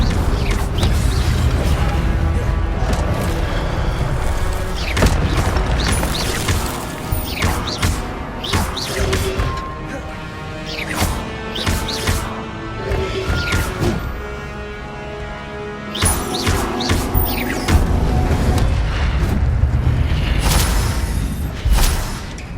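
Fiery spell blasts from the Incendio charm in the Hogwarts Legacy video game: repeated loud booming thuds and crashes, one after another, over a dense, continuous game soundscape.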